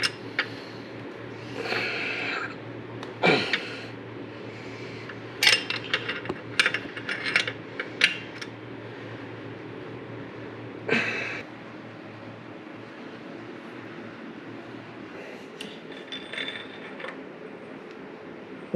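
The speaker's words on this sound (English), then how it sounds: "you have to move the wrench a little, flip it over, do a little more" Scattered metallic clicks and short ratcheting bursts from a wrench being flipped and worked on a harmonic damper bolt during an LS engine swap, close by against a steady low hum, with pauses between groups of clicks.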